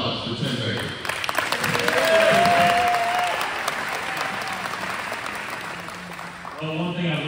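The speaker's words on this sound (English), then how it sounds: "Round of applause for Tim Baker." A round of applause at a county GOP wine social, sustained crowd clapping throughout, loudest near the middle, with a tonal sound briefly over it and voices at the end.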